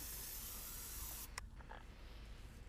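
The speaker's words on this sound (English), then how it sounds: "I'm using carbon choke cleaner here to spray in there and clean things up." Carbon and choke cleaner sprays from an aerosol can into the intake ports of a 1999-2002 Mazda 2.5L V6, a loud close hiss lasting just over a second, then cut off, leaving faint clicks and handling noise.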